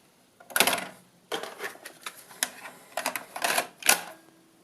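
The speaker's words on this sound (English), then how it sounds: "we'll get that one in a tape drive" A tape cartridge is loaded into a tape drive, producing a quick series of close, dry plastic clacks and mechanical clicks in uneven bursts, each rattling briefly before the next.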